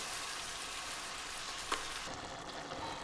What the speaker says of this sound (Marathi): हिला आता मस्तपैकी परतवून घ्यायचं आहे।